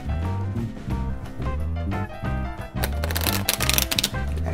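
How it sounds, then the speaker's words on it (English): Deck of playing cards riffle-shuffled for a solitaire game, a dense crackling flutter of cards running through two bursts, the second louder and brighter, close up with no talk. "let me give this a good shuffle here."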